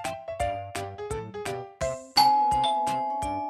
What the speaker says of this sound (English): Then the doorbell rings.